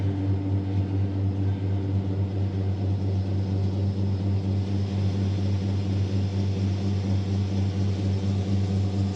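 A farm machine engine idles with a steady, low, even drone that holds unchanged and close throughout, with no voices over it.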